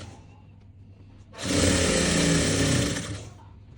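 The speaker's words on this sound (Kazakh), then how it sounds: "Енді жағын тігеміз." A sewing machine runs in a single loud, steady burst of about two seconds as it stitches the side seam of a bomber jacket in thick fabric, with quiet room tone before and after.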